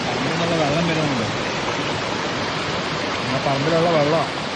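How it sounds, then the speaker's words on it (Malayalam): Rainwater runs in from a yard in a steady, broad rush during heavy rain, with a person talking over the flow. "പറമ്പിൽ നിന്നുള്ള വെള്ളം വരുന്നുണ്ട്."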